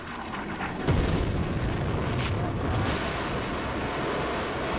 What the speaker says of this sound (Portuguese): O meteorito de Ensensheim, com 113 quilos, cai com um grande impacto.